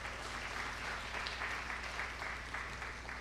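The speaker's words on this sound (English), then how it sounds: "Give him another round of applause." An audience at a youth empowerment summit during national diaspora day celebrations applauds after a concluding song, steady crowd clapping over a low rhythmic hum, continuous and fairly loud for the whole stretch.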